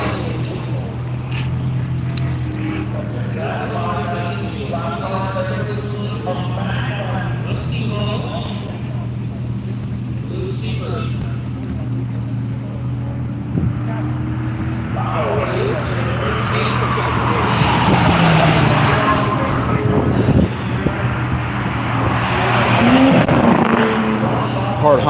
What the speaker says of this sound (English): Hart Honda Acura and Forsyth Supra finishing up their afternoon session.